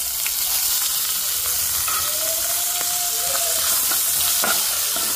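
Chopped onions and green chillies hit hot tempering oil for a cluster bean curry, setting off a steady, close sizzle that crackles without a break for the whole stretch, with no voices.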